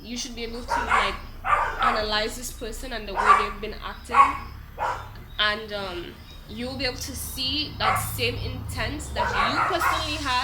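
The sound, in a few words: dog barking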